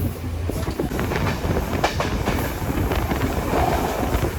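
A train on the Jaffna–Colombo railway rolls past close by, a steady loud rumble with faint rhythmic wheel clatter throughout, no voices.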